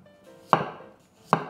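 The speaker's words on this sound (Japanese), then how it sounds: "頑張って薄切り細切りに、 こんな感じでやっていっていただいたらいいと思います" Two crisp knife cuts through carrots being sliced into thin strips land sharply on a cutting board about a second apart, each followed by a brief fading rustle.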